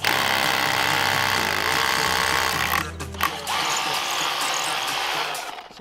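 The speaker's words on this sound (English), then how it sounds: "I'll just swap it to hammer setting so you don't chew up the timber" A power drill on hammer setting drives into brick while fixing horizontal timber screening, a loud close rattling drone that breaks off briefly midway, then resumes and runs on before tapering at the end.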